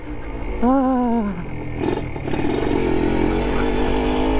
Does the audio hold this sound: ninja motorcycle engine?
yes